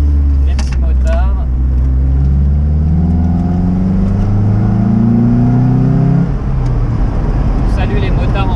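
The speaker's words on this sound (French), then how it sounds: "Salut les motards en faisant une petite accélération." A Lotus Elise accelerates on a dry, winding road, the engine note climbing steadily through the revs and then dropping off, loud and close, with brief talk over the start.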